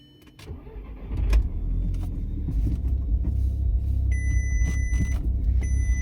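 A performance car's engine rumbles steadily up close as the car, with a damaged wheel, pulls away and drives, with a low continuous drone and occasional faint clicks and tones.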